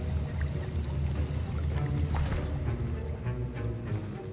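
Stirring a potion in a cauldron during a Hogwarts Legacy potions class gives a steady, continuous swirl of sloshing liquid, close and even, with no talking over it.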